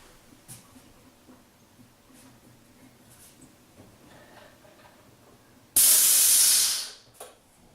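A sudden loud burst of homebrewed beer foam spraying hisses for about a second and a half, then tapers off, after a quiet stretch of faint clicks and room noise.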